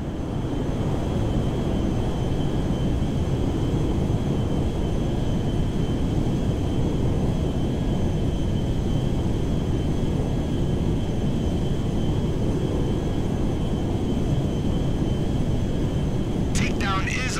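Steady, loud engine drone of an airplane in flight in Grand Theft Auto V, heading to land at McKenzie Field, a continuous rumble with a brief chirp near the end.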